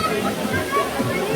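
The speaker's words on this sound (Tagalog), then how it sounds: "Yung sound ng falls." Bhagsunag waterfall in India roars as a steady, dense rush of falling water, with people talking nearby over the constant wash.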